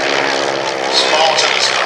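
Vintage propeller aircraft, including a de Havilland DH.60 Moth and a Spartan, drone past loudly and steadily during a handicap air race at a Shuttleworth airshow, engine note swelling slightly, with no talk over it.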